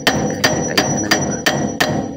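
Metal hammer blows knocking out a stuck brake drum on a Multicab pickup, six loud, sharp strikes spaced evenly about a third of a second apart, close by with no talking.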